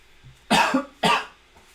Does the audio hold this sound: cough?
yes